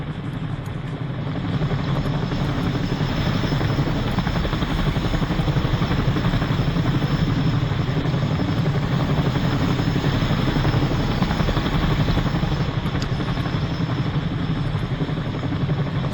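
A helicopter drones steadily with a thumping rotor roar, unbroken throughout, loud and close, with no voices present, in the video game Arma 3.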